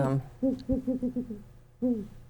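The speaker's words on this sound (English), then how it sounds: "Well, I kind of like great horned owls." A captive great horned owl at a New Jersey wildlife rehabilitation center gives a deep, rhythmic series of about six hoots, close and clear. One more hoot follows after a short pause.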